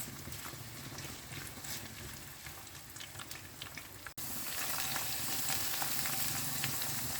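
Onions and lemongrass stalks sizzle steadily in hot oil, a continuous close frying hiss that jumps louder partway through after a brief drop, with no talking.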